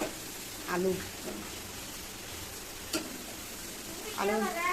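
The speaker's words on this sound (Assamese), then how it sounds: "হালধি নিমখখিনি মিক্স কৰি অলপ দেৰি এনেকৈ ফ্ৰাই হ'বলৈ ৰাখি দিম।" Broiler chicken pieces frying with turmeric and salt in a pan, a faint steady sizzle with occasional stirring clinks and brief bursts of talk.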